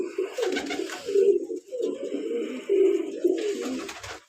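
Close, loud cooing from a racing pigeon bred for contests comes in several rolling, throaty bursts separated by short gaps, with no other sound competing.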